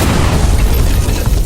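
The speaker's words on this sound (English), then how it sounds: "a massive explosion erupted from the side, tearing through the battlefield in an instant" A massive explosion rips through a battlefield, a dense low boom that roars continuously for over a second with no other sound.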